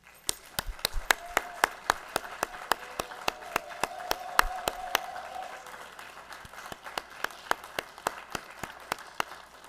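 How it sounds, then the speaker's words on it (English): Audience applause fills a hall at a ceremony honoring honorary degree recipients and retiring faculty. Steady, moderately distant clapping carries sharp individual claps and lasts throughout, with no speech over it. "Will you join me in one more round of applause?"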